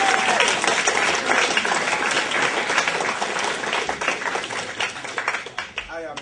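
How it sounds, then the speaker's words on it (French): A high school audience bursts into steady applause, dense and even, fading slightly near the end. "Alors pour montrer que ça va, on applaudit."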